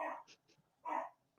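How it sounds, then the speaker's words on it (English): A pet dog barks twice, fairly close by, two short sharp barks with a faint sound between them in an indoor room. "can you hear my dog barking in the background or no?"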